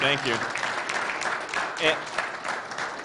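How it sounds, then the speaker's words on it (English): Audience at a Tea Party general meeting claps briefly, moderately loud, as voices talk over and around the applause. "You guys should all give yourselves a round of applause"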